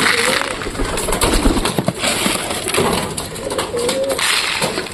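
Pigeons coo close by while they are fed, low soft calls repeating over steady outdoor noise, with a person's voice breaking in briefly.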